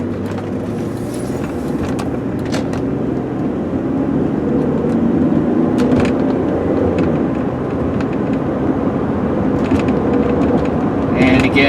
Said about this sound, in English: Again, nice quick little car, all the way up to 55 miles an hour